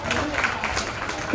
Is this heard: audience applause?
yes